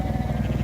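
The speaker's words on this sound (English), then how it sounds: "So the sheep are now making their way around the lake in an orderly fashion." A flock of sheep by a lake bleats in a loud, close, wavering chorus, briefly and with no talking.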